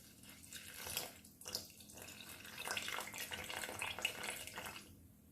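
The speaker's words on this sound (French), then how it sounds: "je vais essayer d'ajouter par 50 ml d'eau au cours du pétrissage jusqu'à avoir une belle pâte" Water poured into brioche dough in a mixer during kneading, a faint trickling, splashing flow that swells and fades in short bursts, with no speech.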